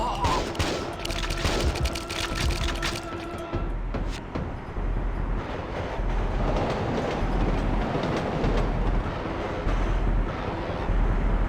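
In the video game Blood II: The Chosen, a runaway train rolls on rails with a loud steady rumble and rhythmic clickety-clack, preceded by a burst of rapid gunfire in the first seconds.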